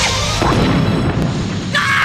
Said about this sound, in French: Ou une explosion nucléaire!